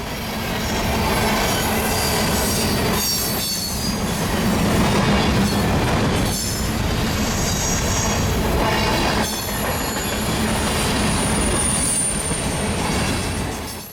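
A CPKC grain train rolls steadily past up close, with continuous high metallic wheel squeal over a dense rumble of railcars for the whole stretch.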